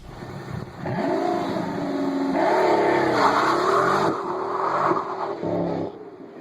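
A Pagani sports car engine, designed as a sound effect for Transformers: Age of Extinction, revs and rises in pitch, rolling through several swelling surges with a squealing edge, then cuts off abruptly near the end.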